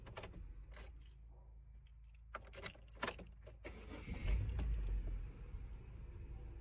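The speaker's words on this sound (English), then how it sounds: "Let's see if it'll start back up." A flood-damaged Buick Rendezvous is cranked and its engine catches, with a rough low rumble building near the end after a few sharp clicks and rattles of keys and handling nearby.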